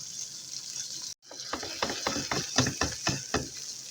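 A microwave timer dial being wound to heat a pouch of Ben's rice, a rapid run of close, crisp mechanical ratcheting clicks after a brief pause, with no talking.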